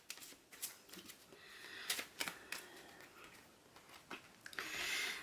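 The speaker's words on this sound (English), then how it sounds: "So I'm just going to shuffle them." Cards shuffled for a board game, a run of soft papery riffling bursts and taps, fairly quiet and close, with a longer brighter riffle at the end.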